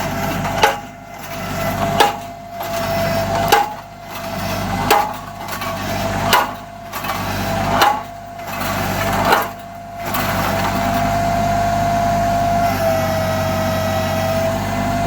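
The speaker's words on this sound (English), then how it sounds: "This post driver is definitely a very useful tool for us and for our operation." A tractor-mounted Shaver post driver hammering steel pipe into the ground, heavy rhythmic blows landing about every one and a half seconds over a steady engine drone, then giving way to the engine alone.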